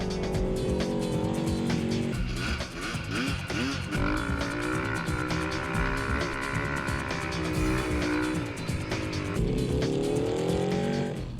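Off-road vehicles racing on trails and dunes in Oklahoma, engines revving and whining up and down through gear changes at close range, dense and loud with overlapping motors and no voices.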